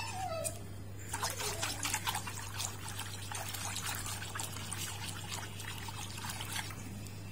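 Water trickles and pours into a bowl to dissolve the muhallabia ingredients before they go on the heat, a close, steady stream with light splashes and no speech.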